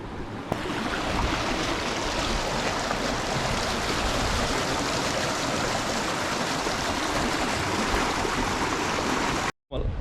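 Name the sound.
flowing stream water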